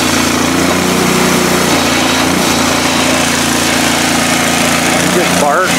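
A Miller Trailblazer 302 Air Pak welder's engine runs loud and close with a constant drone, while a voice talks over it.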